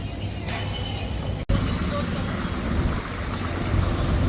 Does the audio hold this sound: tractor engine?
yes